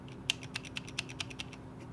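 Small plastic Barbie doll shoe clicks as it snaps onto a Ken doll's foot, a quick series of light, sharp ticks up close in a quiet room.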